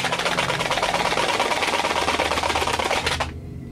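A box of Tassimo Maxwell House Blend coffee pods shaken hard, producing a dense, loud rattling clatter that runs continuously for about three seconds, then stops abruptly, close up with no talk.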